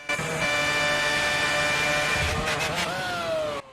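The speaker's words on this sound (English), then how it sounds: "I've never heard a V8 F1 engine rev so high" A V8 Formula One engine screams at extremely high revs in the F1 2010 racing game, a sustained loud whine holding pitch before dropping as revs fall, ending abruptly.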